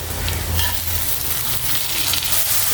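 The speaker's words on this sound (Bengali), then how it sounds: "পেঁয়াজ বাটাটা দিয়ে ভালোভাবে কষে নিব" Onion paste fries and is stirred in a pan, giving a steady, dense sizzle that stays loud and close throughout the short stretch.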